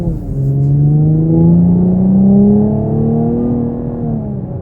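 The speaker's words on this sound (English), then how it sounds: "you can still hear the exhaust pretty nicely" A 2022 Chevrolet Camaro 1LT V6 drones steadily while driving in tour mode, its exhaust note rising and falling smoothly with gentle acceleration, loud and close.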